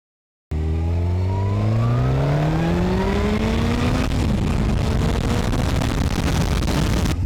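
A Suzuki GSX-R 1000 motorcycle with a 1000 cc, 183-horsepower engine bursts into a loud, close roar and accelerates hard, its pitch climbing steeply through a gear, dropping briefly at a shift, then rising again as the sound stays full and constant.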